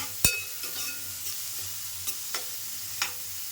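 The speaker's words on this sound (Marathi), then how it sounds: "कांदा ना व्यवस्थितचा परतून घ्यायचा" Onion sautéing in a pan for a Malvani-style dish, a soft continuous sizzle broken by a few sharp spatula clinks and scrapes, close and fairly quiet with no talking.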